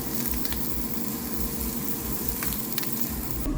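Sausage patty frying in oiled pan, a steady close sizzle running unbroken throughout with faint crackles and no talk.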